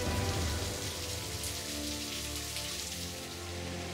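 Steady rain falls on surfaces, a dense even hiss of drops at a soft level throughout, with no voices.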